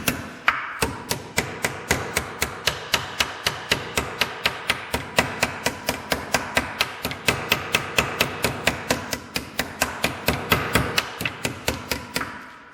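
A hammer strikes sheet steel being shrunk and shaped in a fast, even rhythm of close, sharp metallic blows, dozens in a row with no talking.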